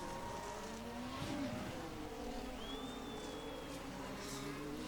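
Formula 1 cars race in a video game Austrian Grand Prix, with a continuous engine whine and pitch sweeps as cars pass and shift, steady and fairly quiet.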